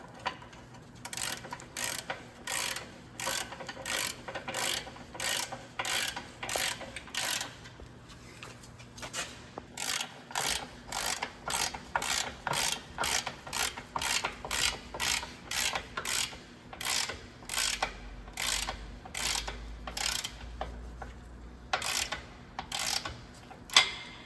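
Steady ratchet clicking while fasteners are tightened on a plastic washer fluid tank of a 2020 Volvo VNR truck, dozens of quick close bursts in a regular rhythm with short pauses, no talk.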